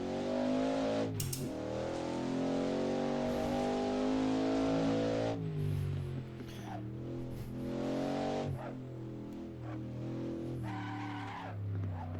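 Race car engines roaring loudly in Assetto Corsa, WSC Legends sports-prototype cars sliding around the Riverside circuit, with steady high revs, sharp shifts and drops in pitch on downshifts, and tire squeal as the cars skid through corners.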